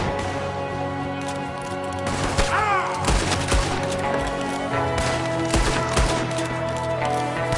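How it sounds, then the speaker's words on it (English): Gunfire in the Western video game Red Dead Redemption 2, repeated loud shots and sharp cracks layered over a steady background score, several bursts in quick succession. "there's another one shooting from the window"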